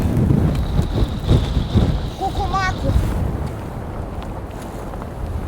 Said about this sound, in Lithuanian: Lazda tiksliau, vėjas pučia.